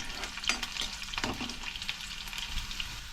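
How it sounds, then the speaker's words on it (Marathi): Garlic frying in a pan, a soft close crackling sizzle with occasional stirring scrapes and clicks, quiet and steady with no voices. "थोडीशी ना लसूण हे करून घेऊया परतून घेऊया थोडीशी लालसर करूया"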